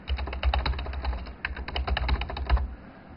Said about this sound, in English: we're going to go ahead and type in Cranberry here